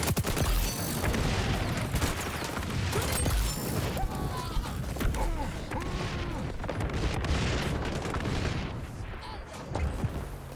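A frag grenade going off amid gunfire in the xDefiant video game, with a dense run of booms, rapid shots and mechanical clatter that keeps going for the whole stretch, fairly loud and layered.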